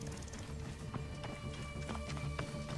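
Horse hooves galloping in a steady rhythmic clip-clop in the Assassin's Creed Origins video game, close and fairly loud over ambient game sound.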